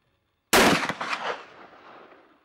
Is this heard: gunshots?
yes